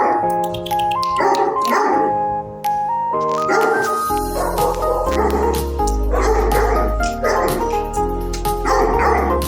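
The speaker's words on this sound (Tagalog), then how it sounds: "Ang breed niya is Great Dane." A Great Dane at an animal shelter in Reno, Nevada barks repeatedly, loud and deep, in short bursts with brief whimpers between, over a busy background of music-like tones.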